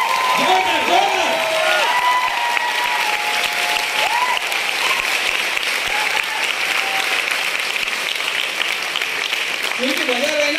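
Audience applause at a motivational speech in Sion, a dense continuous wash of clapping filling the room from start to finish, loud and steady, with faint crowd voices and some tonal sounds mixed in.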